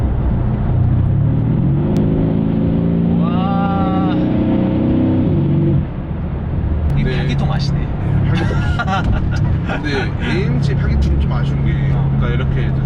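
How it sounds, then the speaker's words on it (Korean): A deep, steady V8 engine and exhaust drone from inside a Mercedes S63 AMG runs throughout, with booming resonance rising briefly as it revs, while people talk over it. "이 8기통이랑 또 부밍음이 있잖아요"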